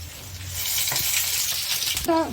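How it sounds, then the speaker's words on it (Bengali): Whole cardamom, cloves, cinnamon pieces and bay leaf sizzle in hot oil for a chicken dish, a gentle frying hiss with a few light clinks, and a brief voice at the very end. "এবার 2টো এলাচ, 2টো লবঙ্গ আর 2 টুকরো দারচিনি আর 2টো তেজপাতা দিয়ে একটু ভেজে নিচ্ছি"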